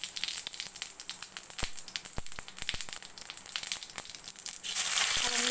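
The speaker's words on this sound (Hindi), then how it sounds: "अब ऑयल गर्म हो गया है, हम इसमें सबसे पहले जीरा डालेंगे।" Cumin seeds dropped into hot oil sizzle with a steady, crackling fry and sharp pops throughout, the sizzle swelling louder near the end; no talking.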